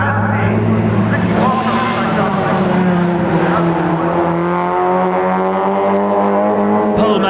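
Fiat Punto Abarth Cup race cars in 2002 racing through the final turn, with a loud, sustained engine drone that shifts in pitch as the cars push on, steady and close throughout.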